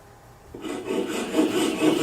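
A Japanese pull saw cuts glued wooden splines off a mitered box, silence giving way to a close, steady rasping stroke that builds over two seconds.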